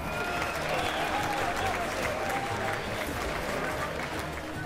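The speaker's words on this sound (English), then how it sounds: "And ladies and gentlemen, a big round of applause to your runner-up, Earl Brown." A crowd at a UCMMA mixed martial arts event applauds the fight's runner-up after a knockout finish, giving continuous, loud, even clapping with some crowd noise throughout.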